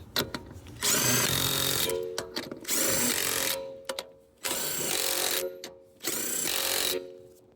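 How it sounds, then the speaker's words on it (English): An impact gun tightens lug nuts on a 2023 Honda Pilot wheel, loud close rattling bursts of about a second each, repeated four times with short quiet gaps between, and no talking. "Get your impact gun. Push the button in so it can spin."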